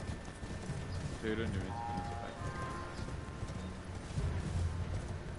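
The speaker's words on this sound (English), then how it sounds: "I got a horse." Horse hooves in the fantasy game Elden Ring clip-clop in a quick galloping rhythm, fairly close, while someone talks over them.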